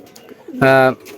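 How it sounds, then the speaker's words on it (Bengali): A male pigeon gives a loud, close, drawn-out coo with its head lowered, a single deep droning call rising after a quieter stretch of soft background sound. "নর কবুতর মনে করেন যেখানে ডিম পারবে সেইখানে যেয়ে আগে ভীষণ ডাকবে মাথা নিচু করে মানে গুম গুম করে ডাকবে"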